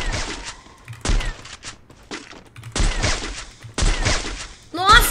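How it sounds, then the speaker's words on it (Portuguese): Loud, heavy Barrett sniper rifle gunshots in the video game Free Fire boom in a few separate bursts, close and punchy, with an excited voice talking between and over them. "3 tiros de barret no indivíduo, mano. 3 tiros de barret."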